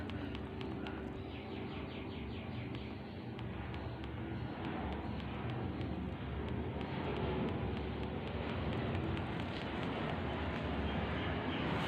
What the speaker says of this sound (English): Plane going over the roof.